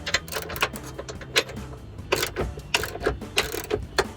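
A ratchet turns a deep socket to back out front bumper bolts on a Jeep Wrangler, making quick bursts of sharp metallic clicking, close up and alone.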